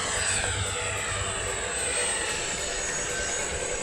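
An FMS Rafale RC jet flies past with a steady, moderately loud whooshing engine roar and a thin high whine, no voices.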